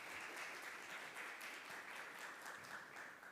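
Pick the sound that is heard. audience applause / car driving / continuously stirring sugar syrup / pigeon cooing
audience applause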